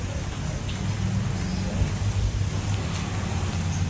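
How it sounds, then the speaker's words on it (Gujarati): Heavy rain pours steadily, a dense constant hiss with a low rumble underneath and no pauses. "આજે તો વરસાદ બહુ છે"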